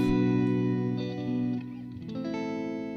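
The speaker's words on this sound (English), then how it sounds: "We've got this beautiful reverb" Lush reverb from a BOSS RV-200 pedal on a looped instrumental phrase, sustained tones washing together and then dropping away, the tail thinning and slowly fading as the dry signal stops.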